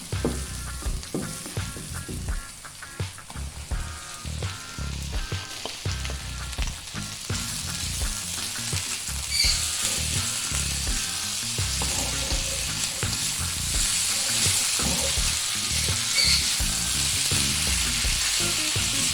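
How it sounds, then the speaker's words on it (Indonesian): Kikil (beef skin) sizzling and frying in a pan with a dried, fragrant spice paste for spicy kikil curry, stirred now and then; a steady close hiss grows louder and denser partway through, with no talking. "sekarang kita masukkan kikilnya ya setelah bumbunya kering dan harum"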